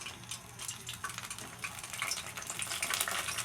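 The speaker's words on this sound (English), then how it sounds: "You hear that, folks? Sizzling." A steady crackling sizzle of food frying in hot oil, continuous and close, with bursts of popping spatter throughout.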